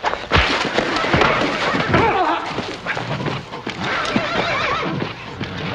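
A horse neighs loudly over the clip-clop of hooves in a scene from the Western TV series Bonanza, with a busy, noisy commotion around it throughout.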